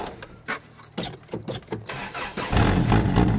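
A Toyota Corona ST141 engine cranks on a cold morning after the accelerator is pumped a couple of times. A rhythmic stuttering churn catches after about two and a half seconds and swells into a steady, loud running rumble.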